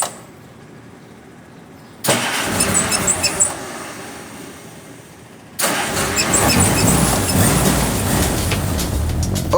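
Car running on pure ethanol-free gasoline pulling away, a quiet idle giving way to a sudden louder engine surge, easing off, then a second strong acceleration, close and loud without talk.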